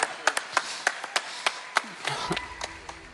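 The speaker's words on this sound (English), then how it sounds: "Another round of applause." A small audience claps sparsely at a tech summit prize event, roughly a dozen separate hand claps in an uneven rhythm, close and moderately loud, with a faint voice underneath.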